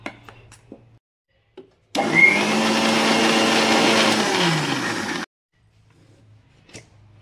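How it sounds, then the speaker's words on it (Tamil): A kitchen mixer grinder whirs loudly and steadily for a few seconds, pureeing cooked spinach with green chili, ginger and garlic into a paste, then cuts off abruptly into quiet. "பேஸ்ட் பண்ணிக்கலாம் மிக்ஸியில் போட்டு."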